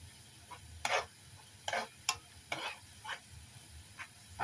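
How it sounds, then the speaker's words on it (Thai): Ingredients for a pork and eggplant coconut curry stir-fry in a pan, with a faint sizzle under several distinct scraping strokes of a spatula spaced about half a second apart, quiet and close. "ผัดให้มันหอมก่อนนะคะ"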